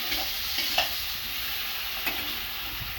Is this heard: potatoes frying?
yes